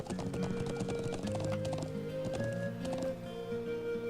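Horse hooves clip-clop at a run in the Trails of Cold Steel video game, a steady rhythmic patter blended with game music and tones, continuous and fairly close with no talking.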